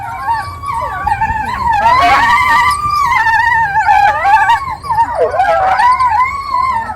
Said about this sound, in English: you can see one wolf burying his breakfast, and then later we got to hear them howl as well